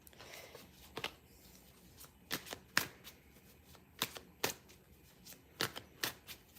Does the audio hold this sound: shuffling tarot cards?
yes